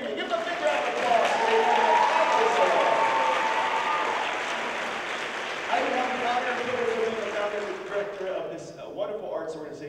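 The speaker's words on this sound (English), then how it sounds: "Give them a big round of applause." A live audience applauds orchestra musicians after a concert performance, sustained clapping that is loud at first, eases off, then swells again, with voices talking over it.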